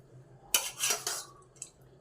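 Utensils clink and scrape against plates and pots as home-cooked food, dal and a thin pabda fish curry with onion, is served, with a few quick bursts close by, then a brief quiet clink.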